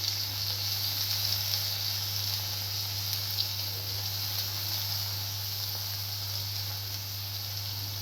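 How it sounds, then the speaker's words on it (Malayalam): Crushed shallots, garlic, ginger and curry leaves sizzle in a hot pan for a fish curry, a steady, even hiss over a low hum, close and moderately quiet. "ഇനി ഇതിലോട്ട് ചതച്ചത് ചേർത്ത് കൊടുക്കാം. ചെറിയ ഉള്ളിയും വെളുത്തുള്ളിയും ഇഞ്ചിയും കറിവേപ്പിലയും."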